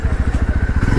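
Motorcycle engine close by with a steady pulsing throb and rattling clatter, as the bike rides along and jolts into a pothole.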